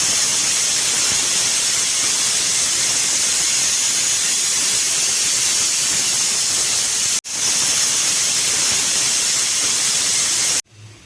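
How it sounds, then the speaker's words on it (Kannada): A pressure cooker on a kitchen stove vents steam while plain kushka rice cooks inside, giving a loud, continuous hiss that runs for about seven seconds, breaks for a moment, then resumes before cutting off. "ಕುಕ್ಕರ್ ಲಿಡ್ ಕ್ಲೋಸ್ ಆದಮೇಲೆ 2 ವಿಸಿಲ್ಸ್ ಬರೋ ತನಕ ವೆಯ್ಟ್ ಮಾಡಿ."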